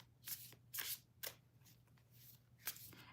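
Tarot cards being shuffled by hand, with several quick riffling bursts at an irregular rhythm over a low steady hum, close and fairly quiet.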